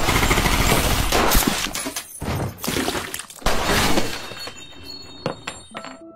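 Wild gunfire in a film scene, a dense run of loud shots and crashes over about four seconds, then a few scattered bangs and clatters trailing off into quieter noise.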